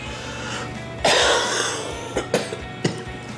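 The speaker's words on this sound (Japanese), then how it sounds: "ごめんなさい、ちょっと咳がねまだ止まんないんですよね" A man building a large-scale model car coughs close to the microphone: one strong, raspy cough, then a few shorter, lighter coughs and throat clears, over a faint background hum.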